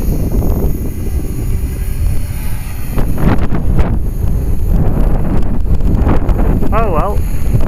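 Strong wind buffets the microphone outdoors, a loud continuous rumble throughout, with a voice talking under it and a faint whining model helicopter in the background.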